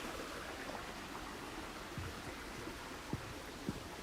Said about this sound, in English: Some water.